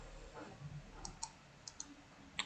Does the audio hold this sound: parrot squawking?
no